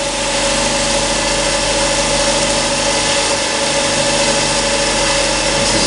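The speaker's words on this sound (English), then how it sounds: "This is a 46 grit 38A, probably K or J hardness wheel." Grinder running with a 46 grit 38A grinding wheel on a collet block, a loud, steady motor hum with a constant mid-pitched whine and broadband hiss throughout.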